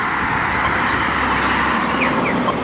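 Cars and other vehicles idle and rumble at a traffic light on a morning street, a steady, loud, continuous roadway drone without talk.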